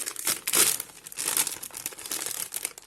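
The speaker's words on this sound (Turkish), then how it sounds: "Açıyorum paketi." A snack package, a bag of wasabi and soy sauce coated peanuts, being torn open, with close, loud crinkling and crackling plastic in irregular bursts over a few seconds.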